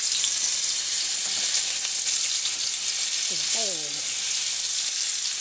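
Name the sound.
scallops frying in high smoke point oil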